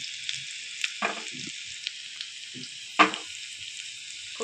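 A spice tempering with asafoetida crackles and hisses loudly in hot oil for rasam, a continuous bright sizzle with a few louder pops and spits near the mic.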